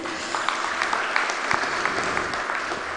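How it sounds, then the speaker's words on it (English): Audience applause at a Grade 12 IB diploma graduation ceremony, sustained even clapping from a sizeable crowd in a hall, steady and moderately loud with no speech. "A round of applause,"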